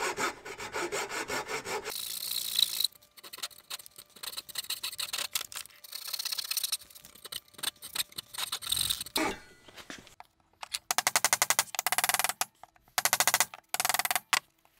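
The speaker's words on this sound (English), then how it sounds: "my chisel isn't as sharp as it should be, because it seems to be smushing the wood more than cutting it" Hand chisel working dovetails in soft wood, a series of scraping, rasping cuts and taps in irregular bursts with short pauses between, close and moderately loud with no talking.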